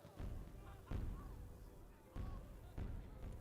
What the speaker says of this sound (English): Wow, the fireworks.